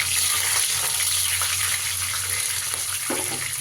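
Slit green chillies fry in hot oil for gongura chicken. A steady, close hiss and crackle runs throughout, with no talking.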